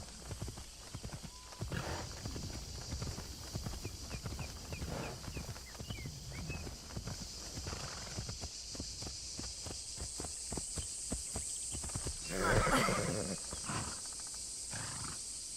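Horse riding in Assassin's Creed Shadows: steady clip-clop hoofbeats at a brisk trot, close and continuous, with a brief louder rustle and animal snort near the end over faint ambient game sound.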